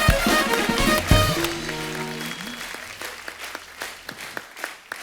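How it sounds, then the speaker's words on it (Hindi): A loud burst of audience applause rises over a short musical sting, then fades into scattered individual claps. "एक बार जोरदार तालियां अक्षय बाजी के लिए"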